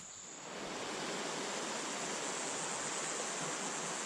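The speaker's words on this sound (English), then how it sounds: "There's the river." Hall River flows beside a hiking trail in a steady, continuous broadband rush that swells in after half a second and holds at a moderate, even level with no talk.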